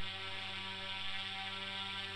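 Flaps retracting on a Cessna 152 Aerobat in an RC flight simulator, a steady mechanical whir with an electric hum underneath, even and continuous for about two seconds.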